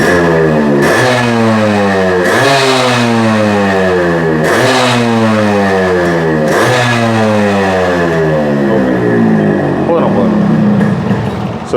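Yamaha RX100 motorcycle built with original spares, its engine revving hard in repeated rising sweeps, loud and close with a rattly two-stroke edge, a voice faintly beneath.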